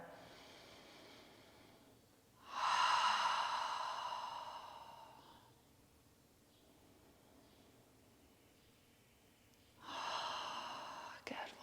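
Slow, deep breathing during a prenatal yoga session, with a long audible inhale and exhale that swells then fades, a quiet pause, and a second breath beginning near the end, close and soft.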